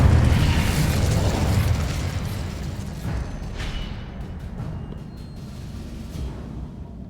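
An Incendio fire spell bursts in the video game Hogwarts Legacy with a loud roaring blast that slowly fades into a rumbling, crackling tail, with no voices over it.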